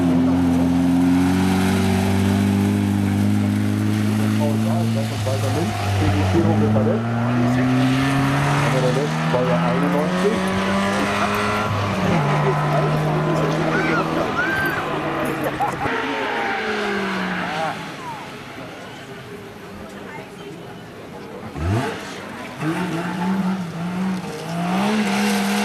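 A Fiat 1.9 mid-engine rally car runs a gravel stage at the Wartburg Rallye near Krauthausen, its engine note rising and falling through repeated revs and gear changes, loud and close at first, then fading as it moves off.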